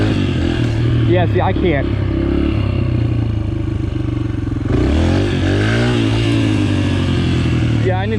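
Yamaha TTR 125 LE dirt bike revving hard during a wheelie attempt, loud engine sweeps climbing and dropping close by, with some clatter and a person speaking briefly over it.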